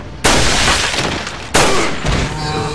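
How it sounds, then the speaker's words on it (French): In Resident Evil 4 on PC with an HD mod, a shot makes an enemy's head explode as two sharp, loud blasts with a wet, shattering burst. Each one cuts in abruptly and decays into a noisy tail, with no voice over them. "Explosion de tête."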